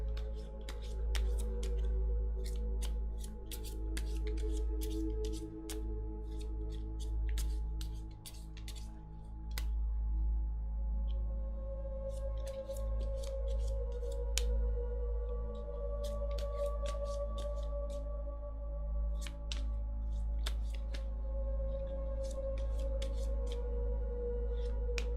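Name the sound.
shuffling tarot cards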